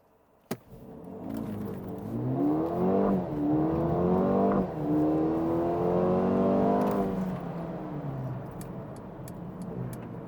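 A Mercedes-AMG A35 with 306 hp, 400 Nm torque, a 7DCT gearbox and 4Matic launches hard from standstill to 100 km/h in sport mode, its engine note climbing loudly through several quick upshifts before easing off.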